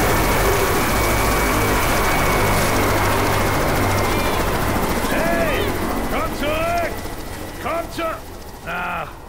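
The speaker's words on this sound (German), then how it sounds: "Der Hubschrauber fliegt wohl zum Evakuierungszentrum." A helicopter flies in the zombie shooter Left 4 Dead 2, its loud, steady mechanical drone filling the scene while someone talks in German over it and the noise thins toward the end.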